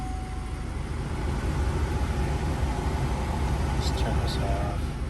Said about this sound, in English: so now obviously the truck is running